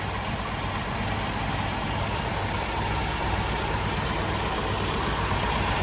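A Jeep Wrangler YJ gasoline engine, fitted with an electric fuel pump and showing a leaking throttle-body base gasket, idles steadily and fairly loud throughout with a continuous low rumble and no talk.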